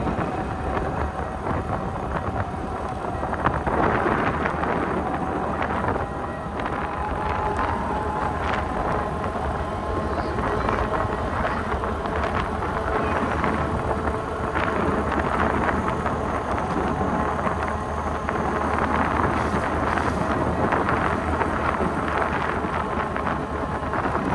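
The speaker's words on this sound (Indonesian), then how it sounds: "Anginnya lumayan kencang." Strong, cold wind on a mountain road roars steadily against the microphone, a loud, unbroken rumble that carries mixed vehicle noise.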